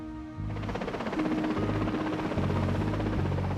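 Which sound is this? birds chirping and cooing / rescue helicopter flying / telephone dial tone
rescue helicopter flying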